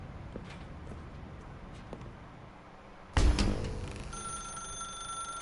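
A telephone rings in The Stanley Parable video game, a sudden loud electronic bell burst after a quiet, low room ambience, then a sustained ringing tone holding to the end, with no speech.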